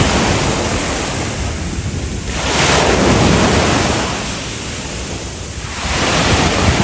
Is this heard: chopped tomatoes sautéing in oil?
no